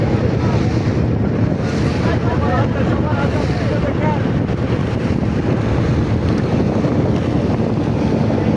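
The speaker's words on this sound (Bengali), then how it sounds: "স্পিড বোট এটা মাইনি চলে যাবে তার সর্বোচ্চ এক ঘন্টা অথবা দেড় ঘন্টার ভিতরে সে মাইনি পৌঁছে যাবে" A speed boat in the Rangamati area runs across the water. Its loud engine roar, wind buffeting and the rush of water carry on steadily throughout.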